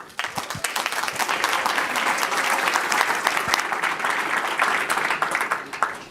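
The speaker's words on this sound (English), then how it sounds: "Let's hear a large round of applause for them." Audience applause at the BlueHat security conference for a talk on AI security, sustained dense clapping from a large crowd lasting throughout, steady and fairly loud.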